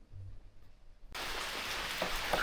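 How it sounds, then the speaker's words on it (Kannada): Heavy rain starts suddenly after a near-silent moment and becomes a steady, dense rushing wash that continues to the end. "ಮಳೆ ಬರ್ತಂದ್ರೆ ಜೋರು."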